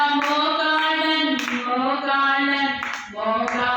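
A congregation claps at a Sunday worship service during a Telugu devotional song. The spaced claps sit under loud, sustained group singing.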